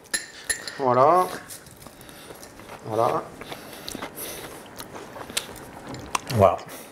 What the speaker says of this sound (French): Alors, la chips, le croquant.